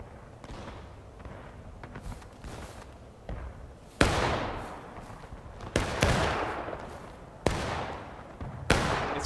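Musket fire in the War of Rights video game, set at the Bloody Lane: scattered single shots ring out, some near and sharp, others distant and softer, with echoing decays between them.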